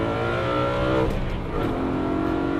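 A DCT-equipped BMW E92 M3 with its V8 revs hard and accelerates, a loud, close, continuous engine roar whose pitch climbs, dips briefly at a gear change, then rises again.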